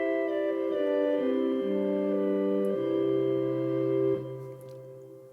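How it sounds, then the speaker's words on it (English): A Liebe Gedeckt flute organ stop on a Yamaha Genos 2 keyboard plays a slow, soft chordal phrase of sustained, pure tones. The chords change step by step, and the last one rings out and fades. "the Liebe Gedeckt, which is basically a flute, sounds like this."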